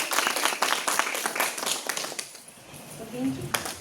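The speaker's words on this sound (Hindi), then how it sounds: "कृपया जोरदार तालियों से इनका स्वागत करें।" Crowd clapping to welcome guests at a BJP women's wing gathering in Kathua, brisk applause that fades midway before a few scattered claps return, with faint voices beneath.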